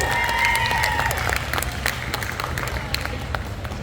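An audience at a pinup pageant during a tattoo convention claps steadily in warm, moderately distant applause, with a brief high whistle early on and crowd murmur underneath.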